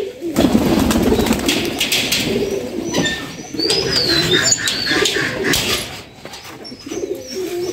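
A pair of parent pigeons coos loudly and close by, with throaty rolling calls in long bursts and a brief lull near the end.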